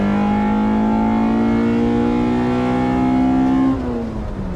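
A 2000 Honda Civic Si with a swapped JDM Integra Type R B18C engine pulls steadily with a rising, high-pitched whine before the revs drop off abruptly as the driver lifts, heard from inside the car without speech.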